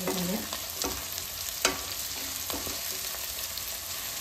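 Bread masala stirred in a hot pan with curry leaves frying, heard close up as a steady sizzle and crackle with a few scraping strokes of a spoon against the pan, no talking.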